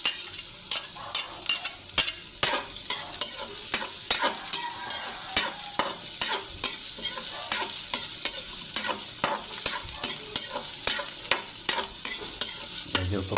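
Ginger, garlic and onion sauté in a pan, with a constant crackling sizzle broken by frequent sharp spatula scrapes and taps in an irregular rhythm, close up and no one talking.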